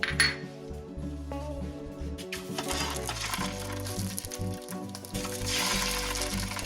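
Sausages drop into half a tablespoon of olive oil on a skillet over medium-high heat, sizzling steadily with clinks of metal cookware over a tonal background.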